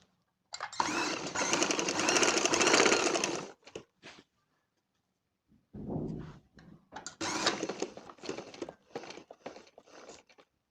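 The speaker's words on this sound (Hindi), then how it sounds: "अब इसे वापस इधर सिलाई लेके आनी है ताकि ये पक्का हो जाए।" An electric sewing machine stitches a school uniform coat collar in two loud runs, a steady burst of about three seconds, then after a pause a longer stretch of short, stop-start stitching bursts close up.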